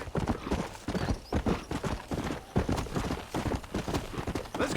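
Hooves of a galloping horse in the video game Red Dead Redemption pound in a rapid, continuous rolling rhythm, close and moderately loud, with no break over several seconds.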